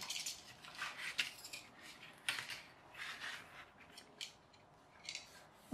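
Close, crisp cutting and snipping sounds through stiff pizza-box cardboard, irregular strokes with brief scraping, fairly quiet overall.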